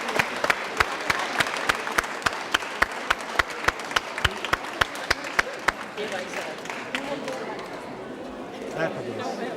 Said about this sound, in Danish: Vi klapper, sådan!